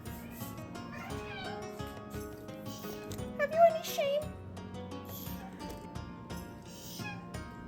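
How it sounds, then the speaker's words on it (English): A house cat gives a couple of short, drawn-out meows in a quiet kitchen, fairly close, among soft rubbing and scraping noises and under a person's talk. "This episode brought to you by my extremely dramatic cat, who has definitely been fed."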